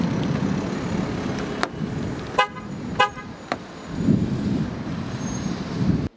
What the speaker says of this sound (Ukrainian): Наша машина без проблем зачинилася та відчинилася.